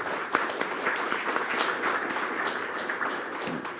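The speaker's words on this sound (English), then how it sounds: "That applause I'll take." A lecture audience breaks into warm, sustained applause, many hands clapping together at a lively, even pace.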